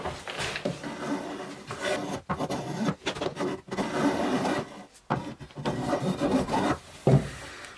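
An oak handrail being worked by hand with a rabbet plane and sandpaper, giving close, loud, uneven rasping and rubbing strokes broken by brief pauses, with occasional knocks of wood.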